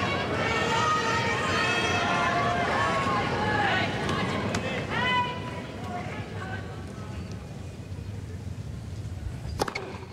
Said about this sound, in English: Listen to this crowd, they know it.